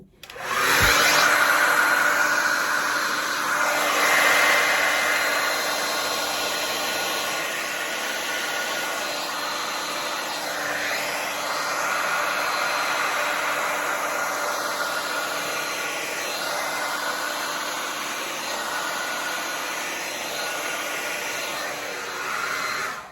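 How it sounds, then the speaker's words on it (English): A hair dryer blows over a fluid acrylic pour painting, a loud, steady whooshing roar with a high motor whine that lasts the whole time and is slightly stronger at the start. "Get the old hair dryer out."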